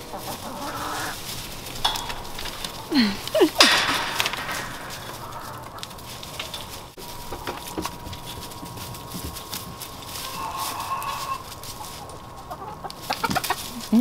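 Chickens cluck on a farm with goat kids around, a few scattered clucks and squawks against steady barnyard background noise, with occasional soft knocks and rustling.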